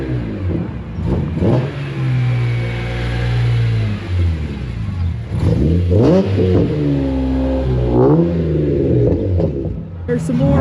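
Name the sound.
FedEx delivery truck driving past at a car show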